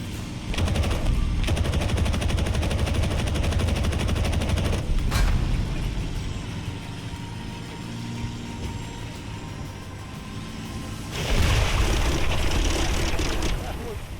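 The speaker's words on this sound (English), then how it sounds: "When you're banking hard in a dogfight, you hear that engine roar shift from front to side" Rapid bursts of gunfire and roaring fighter plane engines in a loud, dense video game dogfight, with a sustained rumble fading in the middle before another burst of noise near the end.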